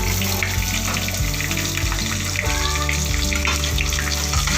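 Onion frying in oil with cumin for palak paneer, a steady sizzle close up, mixed with a sustained music-like tonal bed and no talk.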